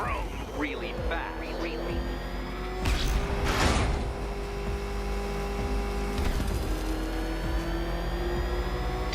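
Batmobile engine in Batman: Arkham Knight revving and whirring, loud and close, with surging bursts and mechanical clunks, while a voice talks over it.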